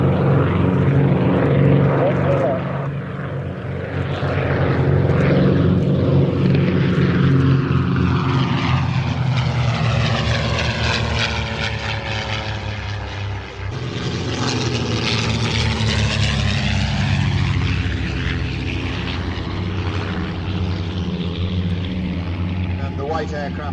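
Vintage propeller aircraft, a DH-88 Comet and a Percival Mew Gull, fly past with a loud throbbing engine roar that swells, shifts in pitch as they pass overhead, and fades, while a commentator talks throughout.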